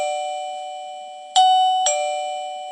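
A PYBBO smart WiFi video doorbell chime rings after its button is pressed, giving a clear electronic two-tone ding-dong, close and loud, alone with no talk.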